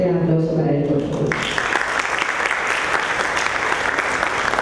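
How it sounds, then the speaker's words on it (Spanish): After a brief spoken introduction, an audience at the final of a citizen debate contest breaks into loud, sustained applause that carries steadily to the end. "Un fuerte aplauso para él, por favor."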